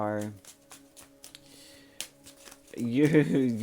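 Tarot cards are shuffled, giving quick crisp flicks and riffles between stretches of a person talking nearby.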